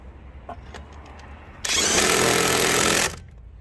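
A STARK cordless brushless impact wrench runs in one loud, dense rattling burst of about a second and a half, close by, after a few faint knocks and handling sounds.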